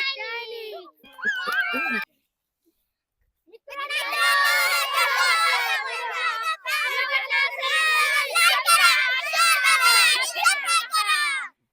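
A group of children shouts and cheers together in loud, high-pitched bursts, with a short silent gap before a sustained, overlapping roar of young voices.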